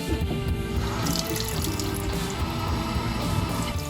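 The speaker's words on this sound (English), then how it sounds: "I'm just gonna start slowly adding water" Water from a tap trickles steadily into a bottle holding crested gecko diet powder, a close, continuous pouring and splashing at moderate level with no speech.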